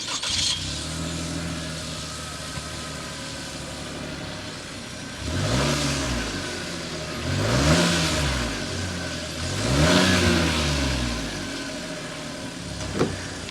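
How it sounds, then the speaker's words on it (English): A 2023 Chevrolet TrailBlazer RS with its small turbo engine starts up, then revs three times in rising and falling swells, the exhaust note loud and near with a steady idle between the revs. "start it up so you can hear that exhaust note"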